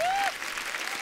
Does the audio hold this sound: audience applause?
yes